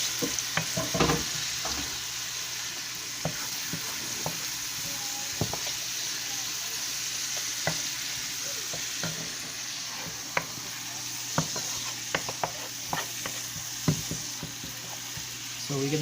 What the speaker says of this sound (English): We have here 1 onion chopped up. We're gonna let that fry like 2 minutes.